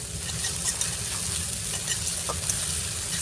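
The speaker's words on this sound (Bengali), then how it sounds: "একটু ভালো করে তেলে ভেজে নেব যাতে কাঁচা গন্ধটা না থাকে।" Ginger paste and garlic paste frying in hot oil give a steady, close crackling sizzle that holds evenly throughout, with faint stirring scrapes and no talk.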